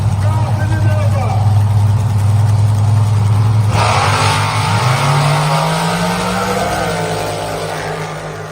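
A drag-racing truck and a Chevrolet Nova accelerate in a points race, a loud roaring engine drone that cuts sharply midway, then a second engine sweeps upward and fades into the distance, with an announcer talking over it.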